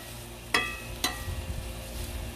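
Sausage frying in a brand new Lodge cast iron skillet on a Blackstone griddle, a soft continuous sizzle broken by two sharp clicks of a utensil against the pan.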